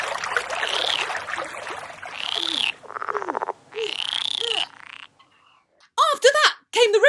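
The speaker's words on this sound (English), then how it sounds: "And then he had to face the frogs and toads." Frogs and toads croak in a storybook sound effect, a dense run of rhythmic trilling croaks broken by short pauses, then sharp bursts of calls at the end.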